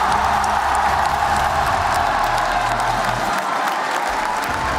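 Loud crowd at a Fortnite Reload Championship esports event at EWC cheers and applauds in a dense, continuous roar of clapping and shouting that holds steady throughout.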